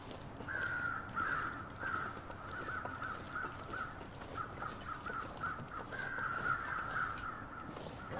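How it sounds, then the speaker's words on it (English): Crows caw repeatedly in the video game The Long Dark, a series of harsh calls from a short distance over a low wind-like ambience, with no voices. "Birds are up there."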